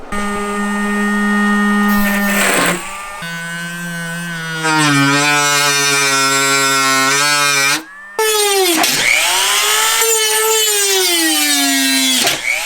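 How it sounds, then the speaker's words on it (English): A standard Dremel rotary tool fitted with a brand-new diamond cutter blade cuts into a snorkel install on a 2017 Toyota Tacoma, giving a loud, high whining buzz that shifts pitch as it bites and spins free, with brief pauses. "we're using, your standard Dremel. I got this from Home Depot. Diamond cutter."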